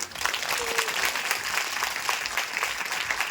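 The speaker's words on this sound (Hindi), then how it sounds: "एक बार ताली बजाएंगे जोर से।" A church congregation claps loudly together in a sustained burst of dense applause, with a brief voice rising faintly beneath the clapping.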